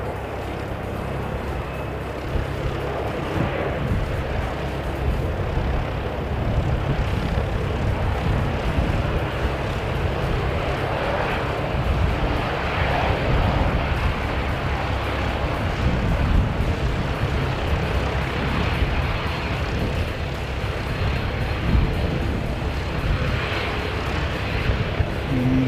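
Airliner touching down with a gentle small bounce on the runway, a steady broad jet roar held at moderate distance for the whole stretch with no voices.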